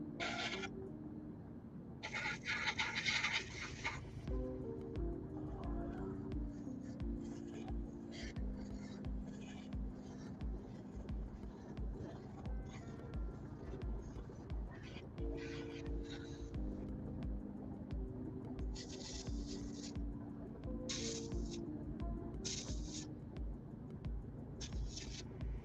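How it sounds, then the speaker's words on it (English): Spray paint hisses onto a shovel in short, sharp bursts, several close together at the start and more later, quiet against a low background hum and with people talking. "So many different angles I've got to spray."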